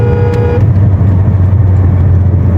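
A car cruising on the motorway between Quetta and Islamabad, with a steady low engine and road drone throughout and a brief tonal whine early on; no talking.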